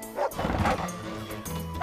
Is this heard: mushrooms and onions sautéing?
no